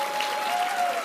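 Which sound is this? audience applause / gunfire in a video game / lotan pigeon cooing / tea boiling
audience applause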